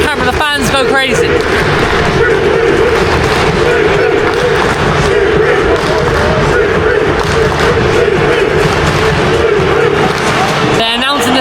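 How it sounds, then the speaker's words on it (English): A packed football stadium crowd roars and chants continuously before an England match against Albania, a dense, loud wall of voices with thumps and shouts, the babble never easing. "The crowd is mental, mate."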